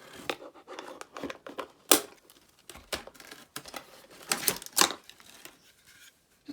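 Scissors snipping and tearing at packaging on an RC28T transmitter, a string of sharp crisp cuts and crinkles in irregular bursts, close and fairly loud with no talk.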